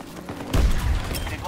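Gunfire in a shooter video game, a dense burst of shots and booms starting about a third of the way in and continuing loudly under a talking voice.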